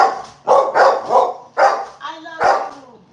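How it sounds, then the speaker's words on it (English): A pet dog barks indoors in short, loud bursts, about six sharp barks in quick succession with a whiny edge, close to the listener. "you're just barking to bark, Bailey"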